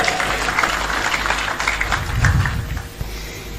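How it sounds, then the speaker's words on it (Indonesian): A crowd claps steadily after the Indonesian national anthem at a gathering, a dense wash of applause that stays close and fairly loud throughout, with a few louder claps standing out. "Tepuk tangan untuk Indonesia Raya."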